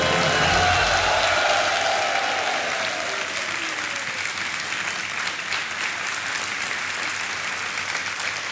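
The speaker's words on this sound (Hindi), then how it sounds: "तालियां बजती हैं इनके लिए" Loud, sustained applause from a TV quiz show studio audience, steady clapping filling the whole stretch, a dense crowd sound that eases slightly after the first couple of seconds.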